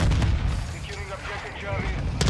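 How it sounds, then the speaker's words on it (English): Semtex grenade going off in Call of Duty Modern Warfare 2 multiplayer, a loud low explosion followed by a rumbling roar and scattered gunfire, with a voice speaking over it. "Throwing Semtex."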